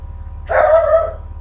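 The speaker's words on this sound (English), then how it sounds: "Oh, what are you barking at?" One short, sharp bark from a nearby dog, loud against a low background hum.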